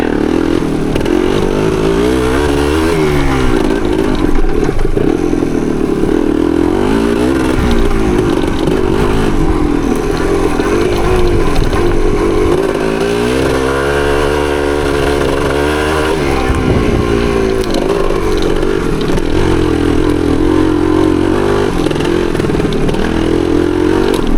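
A 1975 Yamaha DT250 two-stroke trail motorcycle rides through the woods, its engine loud and close throughout, lugging low in second gear, then revving up and falling back in rising and falling waves.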